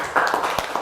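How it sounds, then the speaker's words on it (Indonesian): A primary-school class claps for a group's presentation, producing a short, close burst of scattered handclaps with a few sharp individual claps. "Tepuk tangan untuk penampilan kelompok 4."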